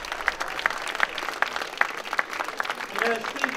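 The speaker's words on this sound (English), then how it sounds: "round of applause for the town band, please, and for all the boys and girls from Blundell and Tiverton High School" An outdoor crowd at a town perambulation event claps for the town band and local schoolchildren, loose uneven applause with distinct individual claps and chatter mixed in.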